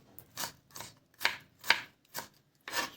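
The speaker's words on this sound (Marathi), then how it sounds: "कांदा कट करायचा आहे" A knife chopping onions on a cutting board for a mutton kheema patties recipe, six distinct strokes at a steady unhurried pace, close and clear with no talking.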